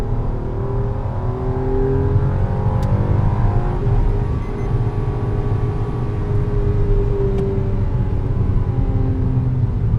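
A Maruti Suzuki Celerio 2021 three-cylinder petrol engine revs hard in first gear, a loud continuous drone rising and falling in pitch, heard close up with no talking.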